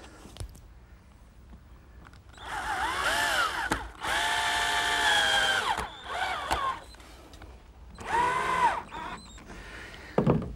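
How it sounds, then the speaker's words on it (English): Close, loud cordless drill whines through several bursts of a few seconds each while driving screws into mitered 1x6 trim boards on a playhouse, with the motor's pitch rising and falling and brief clicks between runs. "That just gets attached with some screws."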